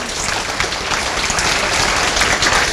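Audience applause at a conservative forum gathering, a dense, steady clapping that holds loud and close throughout without any voices over it.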